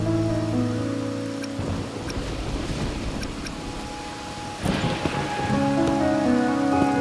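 Steady rain falls in the video game Wuthering Waves, a constant hiss and patter with low rumbles and occasional thumps, under sustained musical tones that fade out and return.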